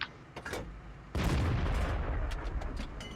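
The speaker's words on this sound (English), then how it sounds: "I'm trying to shoot the Jack Panther" A World of Tanks tank destroyer's cannon fires once with a sudden heavy boom, followed by a long rumbling decay and scattered distant battle noises.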